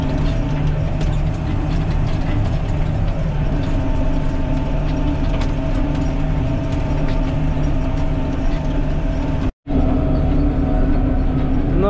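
A tractor pulls a disc harrow across a cover-crop field, giving a steady, loud, close mechanical drone with rattling and clanking, briefly cut off near the end.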